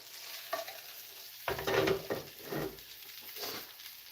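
Potatoes tipped into frying onions in a pan, a quiet sizzle that swells suddenly as they land, followed by rustling stirring bursts, close and without talk.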